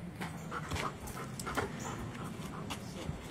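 A dog pants quickly and steadily close by, with faint rustles and small whimpers between breaths and no talking.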